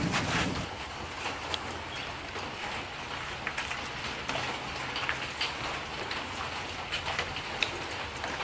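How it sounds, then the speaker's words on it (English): Tropical rain falls steadily on a flooded garden, a dense continuous hiss of drops with scattered sharper patters and splashes, fairly quiet and even throughout with no voices. "Rain's easing up."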